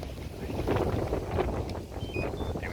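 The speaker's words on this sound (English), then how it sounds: "It is so windy. I'm so sorry about the wind" Heavy low rumbling wind buffeting a microphone outdoors under rain clouds, continuous and loud, with faint higher whistling tones drifting above it.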